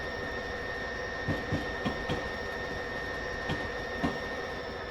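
NJ Transit locomotive 4204 rolling through a rail yard in Train Simulator 2020, a steady rumble under faint tonal whines, with soft rhythmic clicks of wheels over rail joints.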